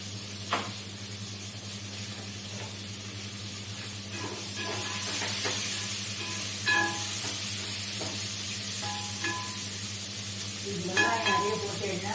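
Chopped onions and green chillies, salted, sauté in a pan for semiya upma, giving a continuous sizzle and hiss with occasional stirring scrapes. A faint voice is audible briefly near the end.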